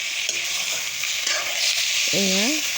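Pork pieces sizzle in a hot wok without oil, giving a close, steady crackling hiss; a short rising squeal-like tone cuts in near the end.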